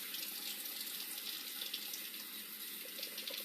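Tap water pours steadily into a foaming hand soap bottle, a continuous close hiss of running water with no pauses.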